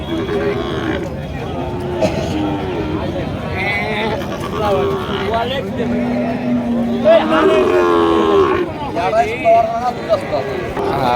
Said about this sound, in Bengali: মোটামুটি বেশ খুবই সুন্দর এবং হাইট সম্পন্ন গরু